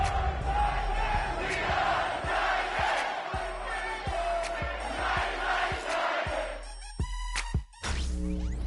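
Large stadium crowd roaring and cheering before a night football game in an EA Sports video game, dense sustained crowd noise punctuated by booming percussive hits, with a musical tail at the end.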